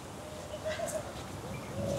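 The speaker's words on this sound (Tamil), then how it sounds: "குருவி சத்தமும் அந்த மாதிரி இருக்கு." Birds calling from a tamarind tree in a heritage park: soft cooing and thin chirps come and go over steady outdoor background noise, fairly faint and distant.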